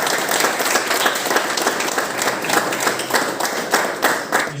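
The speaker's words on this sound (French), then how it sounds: "On peut l'applaudir encore." An audience at an award ceremony applauds warmly, dense sustained clapping from many hands filling the space, loud and even throughout without any speech.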